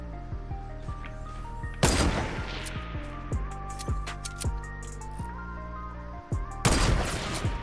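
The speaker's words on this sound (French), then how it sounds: "Ok, je lui ai mis une balle." Two loud gunshots in Fortnite Battle Royale, one early and one near the end, each a sharp crack over steady game music.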